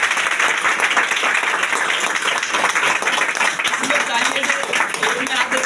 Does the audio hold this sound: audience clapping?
yes